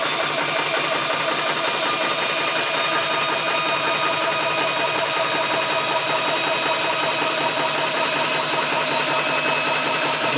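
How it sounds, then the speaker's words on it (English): A Vevor PCP 4500 PSI high-pressure air compressor runs steadily with its cooling fans, giving a dense, continuous mechanical whine and hum that stays even throughout, with no talking. "Let's start this compressor. Let the fans kick back in."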